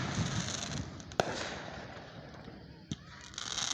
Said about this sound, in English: we got fireworks going off on the other side, to the left, to the right, and